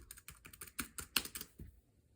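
Keys tapped on a Cherry Stream scissor-switch keyboard, a quiet run of about a dozen soft, close clicks in an uneven rhythm with no voices.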